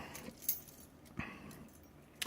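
A set of Schlage depth and space keys jangles close up, with a few sharp metallic clinks and rattles spaced across a couple of seconds, no voices.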